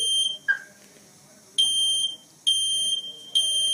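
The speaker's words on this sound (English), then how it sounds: "You can hear the fire alarm sounds ringing in your home, in your phone, even while you are away from home" A home fire alarm heard through a phone call sounds a loud, shrill electronic tone in repeated long pulses separated by short silences, with a faint voice briefly near the start.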